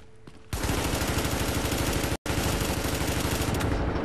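Rapid automatic gunfire with incendiary rounds in the online shooter The Division, a dense sustained burst cutting in after a quiet start, with one very brief gap before the firing resumes loud and unbroken.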